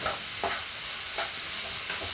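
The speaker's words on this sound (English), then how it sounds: "I'm going to stir this." A spoon scrapes through egg roll filling with onions in a hot pan three or four times over a soft, steady sizzle, close up and fairly quiet.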